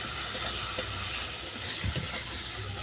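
Vegetarian teasel gourd curry sizzles steadily in oil while being stirred, a continuous frying hiss with soft scraping knocks near the end, no voices.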